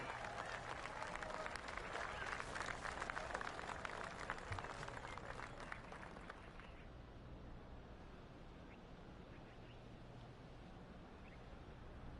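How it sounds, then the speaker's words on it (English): Polite golf crowd applause in the video game PGA 2K23 rattles steadily for several seconds at a tee shot, then fades out, leaving a soft outdoor ambience. "Oh, golf clap."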